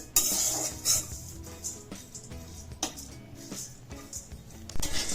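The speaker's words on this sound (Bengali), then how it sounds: "এখানে ভেজে নিচ্ছি।" Ingredients for sugar-free protein laddoos are dry-roasted in a pan over very low heat, heard as intermittent scraping and stirring clatter with a faint, soft sizzle between strokes.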